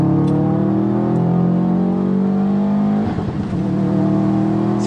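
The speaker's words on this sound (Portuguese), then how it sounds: "Você escuta os pipocos." Close, loud engine of a stage 2 Subaru WRX STI with about 300 awhp accelerating, its droning exhaust tone rising steadily, a brief rough crackle near the end, with no talking.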